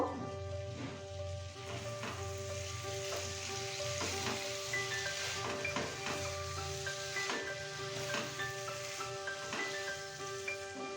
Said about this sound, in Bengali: এবার আমরা ভালোভাবে কচুর সাথে মশলাটাকে মিশিয়ে নেব